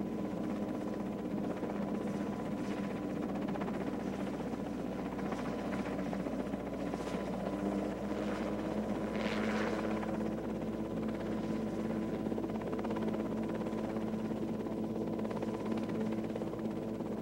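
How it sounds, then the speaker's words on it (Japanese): Small jet-engine helicopter at the 1995 Oshkosh airshow, a steady whining turbine drone with a constant hum and faint rhythmic rotor texture, continuous and fairly distant with no one speaking. "こんな小さな機体にジェットエンジンをつけたヘリコプターは世界に1機だけです。"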